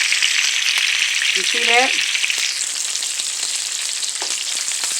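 Turkey wings sear in a hot pan with a steady, close sizzle and crackle that runs throughout, and someone speaks briefly partway through.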